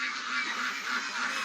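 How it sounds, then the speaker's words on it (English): Farmyard ducks and chickens call hungrily for feed during morning chores, a dense, steady chorus of nasal honking and quacking that runs through the whole short moment without a break. "so ducks and chickens are, feed me, feed me, feed me, feed me"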